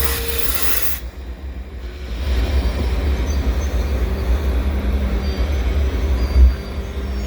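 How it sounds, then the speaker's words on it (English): A CSX grain train hauled by a BNSF Warbonnet locomotive, heard as a steady, loud rumble and hiss of rolling railcars that continues throughout, with a brief louder burst near the start. "A BNSF Warbonnet."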